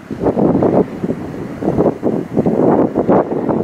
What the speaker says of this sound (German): Der Wind ist mittlerweile echt eisig.